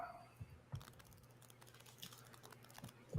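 Quiet clicking of keys on a computer keyboard, a run of irregular taps and a few firmer keystrokes, close and soft with no talking.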